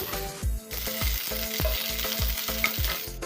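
Onions cut into large pieces frying with bay leaves in hot oil for an Assamese pork curry, a steady loud sizzle with rhythmic stirring scrapes, close and without talk.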